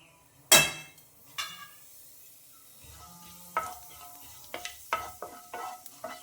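Cumin seeds hit hot cooking oil in a pan with a sharp close burst, then a quieter sizzle broken by clinks and scraping of utensils, with no speech.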